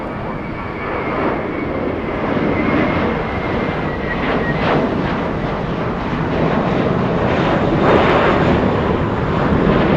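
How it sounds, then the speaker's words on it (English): A 12-year-old All Nippon Airways Boeing 777 touches down on runway 24 right at LAX, its GE90 engines roaring as it slows. The loud, continuous rumble has some wind buffeting and runs unbroken for ten seconds. "Touching down and slowing down on 24 right with the help of the GE90s"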